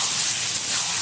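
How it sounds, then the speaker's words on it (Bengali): Mutton pieces sizzle while being sautéed with spices over high heat, a steady close hissing spray of frying with no talk. "ভালোভাবে এবার কষিয়ে নেব সময় নিয়ে, হাই আছে।"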